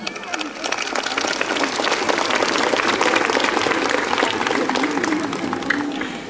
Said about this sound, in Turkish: bir alkışlamanızı istiyorum